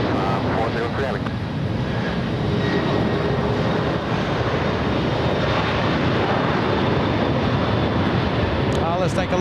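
A fully loaded airliner departs LAX, its jet engines making a steady, broad roar that holds through the whole stretch at constant loudness, with a faint voice under it.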